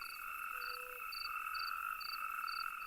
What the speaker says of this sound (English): Most male natterjacks, we could call them the traditional males, call to the females with their croaking